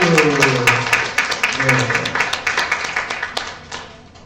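An audience at a school book concert breaks into rhythmic clapping, sharp regular claps that start under a speaking voice and carry on alone, fairly close and loud, tapering near the end.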